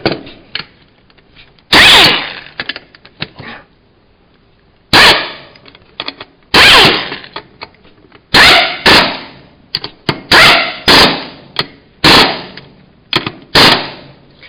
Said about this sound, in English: This is my little butterfly impact wrench ratchet.